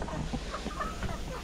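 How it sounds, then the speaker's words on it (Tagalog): Chickens clucking softly and steadily at feeding time, a few close calls over a low background hum. "Tapos yung mga manok, pagkain nila, feeds."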